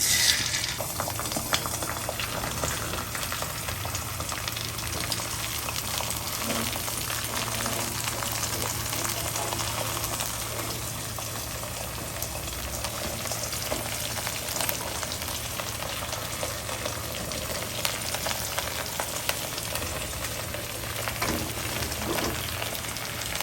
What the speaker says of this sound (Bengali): আমি ডিমটা ভেজে নিব।